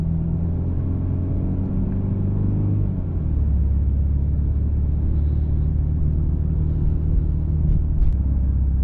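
Car engine idling with a low rumble, then rising slightly as the car gently pulls away from the curb, steady and close, no speech.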